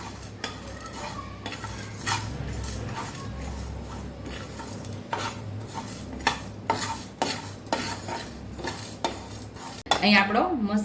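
Samosa spice mix being dry-roasted and stirred in a pan, a metal spoon scraping and clinking against the pan in steady strokes with a low background hum and no voices.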